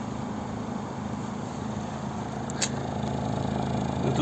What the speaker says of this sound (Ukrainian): Автомобіль заведений працює, рівно тихо.